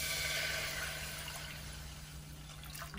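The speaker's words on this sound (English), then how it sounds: "I'm gonna add in my 3 cups of beef broth" Beef broth poured into a pan for meatloaf gravy, a faint steady liquid splash and trickle lasting a few seconds over a low electrical hum.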